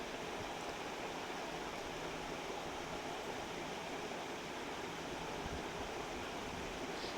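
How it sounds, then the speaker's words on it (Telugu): About four glasses of water rolling at a boil in a kadai on a stove, ahead of cooking pasta: a faint, steady broadband rushing hiss with no break, no other sounds and no voices. "ఇలా మరుగుతున్న నీటిలో"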